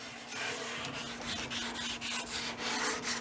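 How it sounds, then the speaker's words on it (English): A small detail sanding mouse with 220 grit paper scuffing the finish on a wooden china cabinet, a close, steady abrasive rubbing with a constant motor hum and rhythmic back-and-forth strokes, no talking. "Now I've just put a 220 on my little sanding mouse and that's just, it's just taking the shine off now."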